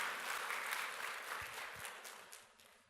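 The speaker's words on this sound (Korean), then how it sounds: "박수로 하나님께 영광을 냅시다." A church congregation applauding, a full room of clapping that starts strong and gradually fades toward the end, a few heavier thumps mixed in, with no talking.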